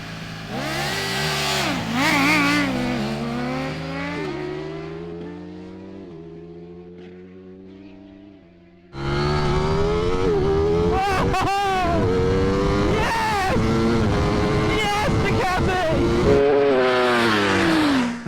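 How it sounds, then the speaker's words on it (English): Two hyper naked sport motorcycles launch side by side in a drag race, engines screaming loud and close at high revs, climbing through gears, a brief dip, then an even louder sustained full-throttle roar. "I think both bikes were squirreling off the line."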